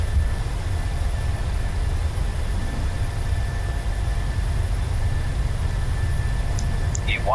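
Boeing 737-700 jet engines in a flight simulator, spooling up for a takeoff roll: a steady, loud, dense roar that holds constant throughout with no voices.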